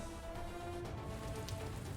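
Heavy rain falls steadily as a dense, even wash of noise, close and constant, with no talk over it.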